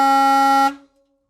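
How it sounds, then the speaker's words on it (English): The horn of a Ford Highboy truck, a former US Forest Service vehicle, blares as one loud, rich, foghorn-like blast held for about two-thirds of a second before cutting off sharply. "I'm gonna honk the horn."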